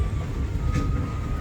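The Magic Kingdom park train rolling along between Frontierland and Fantasyland, a loud close continuous rumble with a steady rattling low-end texture and a faint high tone running through it.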